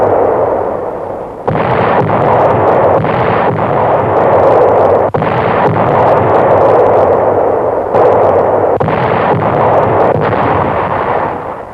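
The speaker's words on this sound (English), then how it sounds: "Our big guns open up." World War II US Third Army big guns firing near Metz, a sustained loud barrage of booming artillery blasts in rapid succession with overlapping rumble, no voices.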